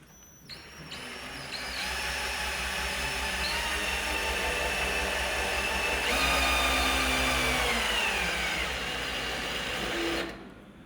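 An external oil pump hums steadily while priming the dry sump of a Toyota 1UZ V8 before a dyno run, a constant mechanical whine with a slight rise in pitch midway, starting and stopping abruptly.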